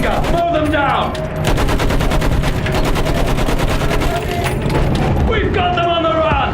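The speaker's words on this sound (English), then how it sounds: "Use that machine gun! Mow them down!" Machine gun fire in the Battlefield 1 World War I campaign, a loud, dense stream of rapid shots that runs almost without pause for several seconds amid battlefield noise, with shouting heard briefly at the start and end.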